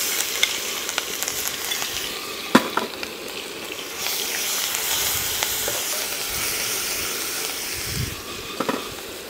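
Ginger garlic paste sizzles in hot oil in a pan with red and green chillies, cumin and coriander, giving a steady frying hiss with occasional stirring clinks.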